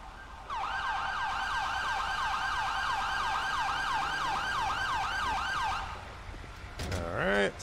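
An ambulance siren in the video game GTA 5 wails in a rapid, regular up-and-down cycle for several seconds, loud and close, then cuts off, followed by a brief rising electronic sweep.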